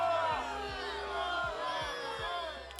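A large crowd jeers and boos in a loud, sustained wall of voices, with a few rhythmic low thumps underneath.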